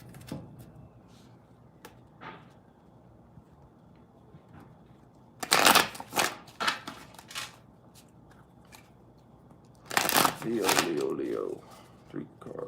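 Tarot cards are shuffled in two brisk riffling bursts, close and crisp, with quiet handling noises in between.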